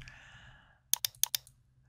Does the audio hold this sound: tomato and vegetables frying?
no